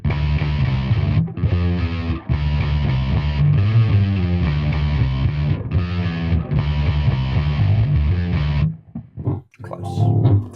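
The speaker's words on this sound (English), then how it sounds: "The bass MT is a wild, radical distortion sound." A Lakland 4401 electric bass plays a sustained, buzzy line through a Bass MT distortion pedal, giving a wild, fuzzy tone that runs loud and continuous before breaking into a few choppy notes at the end.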